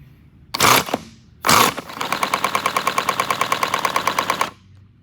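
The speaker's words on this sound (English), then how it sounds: "You can see the whole crankshaft just moving with it, and that's why it sounds like this. You will hear a knocking noise." Small 70cc boxer four-cylinder engine fitted with dual exhaust, knocking from a loose crankshaft, firing in two sharp bursts and then settling into a loud, rapid, evenly pulsing clatter before cutting off.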